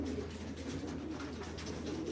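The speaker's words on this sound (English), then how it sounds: "You got how many birds are in here?" Pigeons cooing softly inside a Florida racing pigeon loft, a steady low murmur of many birds with a faint airy background and no talk.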